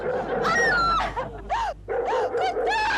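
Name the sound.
dog barking sound effect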